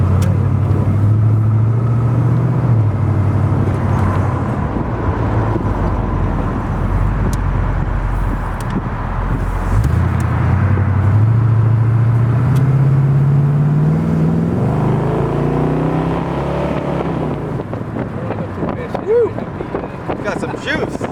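A 1940 Ford Deluxe Convertible with a 351 Cleveland V8 cruises with a throaty, rumbling exhaust that rises and falls as it accelerates, mixed with wind buffeting and passengers talking over it.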